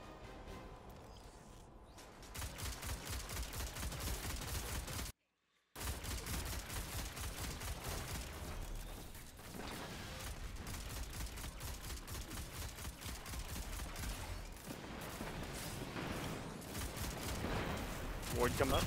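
Heavy gunfire from players shooting parts on a ship in the video game Destiny 2 sounds as sustained rapid volleys of shots, broken by one brief silent gap, with voices faintly talking underneath.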